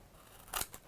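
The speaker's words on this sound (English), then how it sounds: "get your paper scissors" A pair of paper scissors gives one quick, crisp snip through paper, close and faint against a soft background hiss, with a lighter second snip just after.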